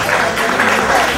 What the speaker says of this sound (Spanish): Un fuerte aplauso para el mayordomo.